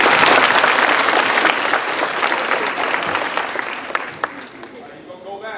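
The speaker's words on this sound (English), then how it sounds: "give him a hand, give him a hand, come on." A middle school audience in a gym claps loudly as a sustained burst of applause that slowly fades, with a voice calling out over it.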